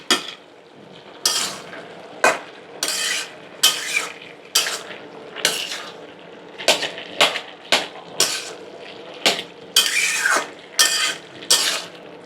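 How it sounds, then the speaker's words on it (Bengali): Spinach and mixed vegetables, wet with the water they have released, are stirred in a pan: a series of about fifteen scraping strokes in uneven rhythm, close and clear over a low simmer. "আমি একটু নাড়া দিয়ে দেখাই।"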